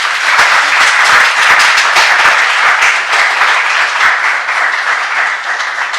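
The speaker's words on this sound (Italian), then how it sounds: "Vi chiedo in via del tutto eccezionale, perché non lo facciamo mai all'inizio, un applauso veramente molto caloroso per Marta" A talk audience breaks into warm, sustained applause, loud and close, with many hands clapping steadily before it gradually thins toward the end.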